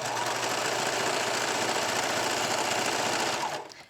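A sewing machine runs steadily, stitching a leggings waistband through layered fabric, with a close, continuous motor whir and rapid needle chatter that winds down at the end. No voices are heard.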